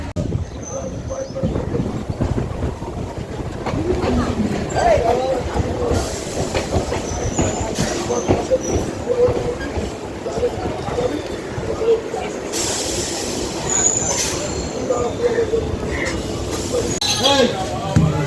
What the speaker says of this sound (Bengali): ট্রেন আমাদের চলেছে